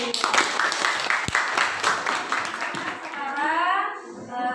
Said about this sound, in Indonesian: Sekalian boleh tepuk tangan untuk kelompok kinestetik.